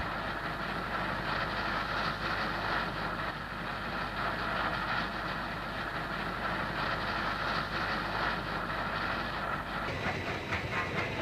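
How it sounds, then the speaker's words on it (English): A Southern Pacific cab forward steam locomotive leads a heavy eastbound freight up a grade near Newcastle, west of Auburn, with a loud, continuous rumble, wheel clatter and steam hiss that stay close and strong throughout. "caught an eastbound cab forward leading a heavy freight up the hill"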